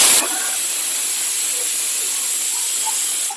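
A pressure cooker on the stove vents steam while boiling chana dal lentils in water, giving a loud, steady hiss that runs continuously for a few seconds before cutting off abruptly at the end.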